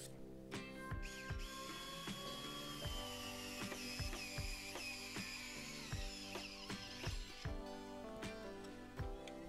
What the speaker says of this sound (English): I'm using a clamp just to help me here.